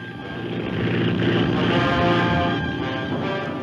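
A steady, loud aircraft engine drone with a constant hum and whine, unbroken throughout, heard with no one speaking.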